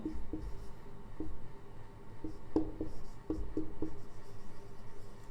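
Notes being written during a class 10 physics lesson, faint scratchy pen strokes on paper in short irregular bursts, close and quiet in a hushed room without speech.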